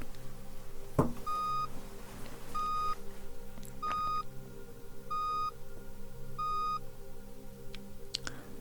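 Five evenly spaced electronic hearing-test beeps sound in a steady rhythm, faint against a low background hum, with a soft knock near the start.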